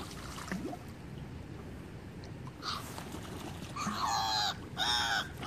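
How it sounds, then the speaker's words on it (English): Seagulls call by the water while ducks are fed bread: two loud, harsh squawking bursts near the end, with faint cries and quiet water-side ambience before them. "these bloody seagulls keep getting in the way"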